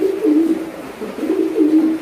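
Pigeons coo at a pigeon farm in Narsingdi, a few close, steady rolling coos in two swells over a quiet background.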